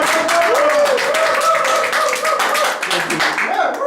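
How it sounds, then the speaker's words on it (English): Audience applause greeting a presenter named Michael at a talk, a steady wash of clapping under a speaking voice. "let's give Michael a big round of applause"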